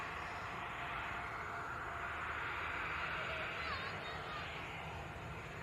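A Gulfstream business jet arriving on runway 05 right at Manchester Airport, a steady, broad engine roar held at a constant level throughout, mid-distance with a faint whine, under a background murmur.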